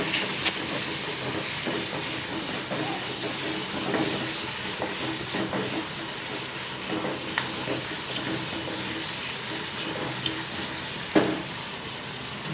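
Spices sizzle and hiss steadily in a hot pan while being stirred for a bitter gourd dish, with scattered scraping clicks over a dense, continuous frying noise.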